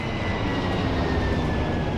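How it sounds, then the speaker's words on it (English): An Airbus A380 passenger jet produces a steady, loud, broadband engine roar that holds constant throughout without pauses. "This is the Airbus A380, the world's largest passenger plane."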